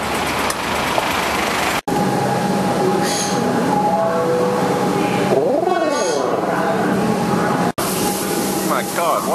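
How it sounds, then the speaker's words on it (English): A crowded city train rolls along with a constant rumble and rail noise, a squealing whine rising and falling midway, and two brief cuts in the sound. "God, why is the train so packed for this time of day?"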